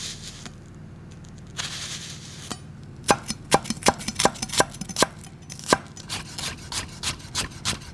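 An onion is diced with a knife on a cutting board: after some soft handling, a run of sharp, close knife strikes lands in an uneven quick rhythm, about a dozen distinct chops, with no talking.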